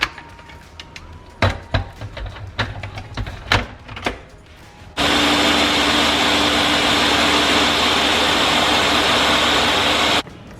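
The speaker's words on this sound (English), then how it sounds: "I'm going to go ahead and blend it all." A few clunks and knocks, then a loud, steady blender whir blending hibiscus, sugar and cold water runs for about five seconds before cutting off abruptly.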